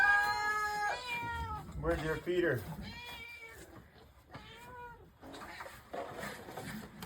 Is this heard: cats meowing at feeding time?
yes